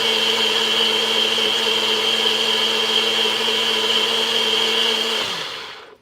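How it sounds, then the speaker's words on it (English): A blender runs loud and steady while making a cayenne herbal salve, its motor whine holding constant before winding down and stopping near the end. "I'm going to put this blender on"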